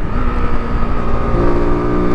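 Sinnis Terrain 125 motorcycle climbing uphill, its small single-cylinder engine droning loud and close with a steady buzzing note that shifts pitch slightly as revs change.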